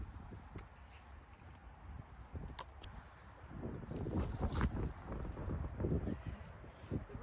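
Wind gusts across an allotment ahead of rain, rumbling and buffeting the microphone and rising in strength toward the end, with intermittent flaps and knocks close by.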